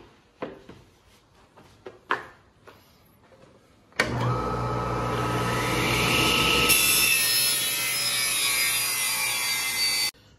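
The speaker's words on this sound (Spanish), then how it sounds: "ahora voy a cortar el segundo piso" A power saw cuts through a wooden floor panel for a lazy Susan cabinet, starting abruptly after a few light knocks and holding a loud, steady whining roar for about six seconds before stopping.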